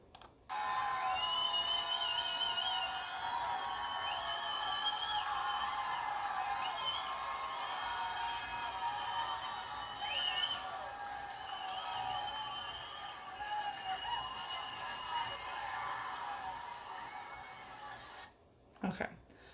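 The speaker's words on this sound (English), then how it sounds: "we're going to hear just the cheering right now" A crowd cheers and whoops in a sustained, lively roar that holds steady for most of the stretch before cutting off abruptly near the end.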